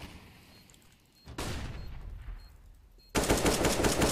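Gunfire from a scout rifle in CS:GO comes as two loud, sudden blasts of shooting, the second louder and more sustained, heard close up with no talking.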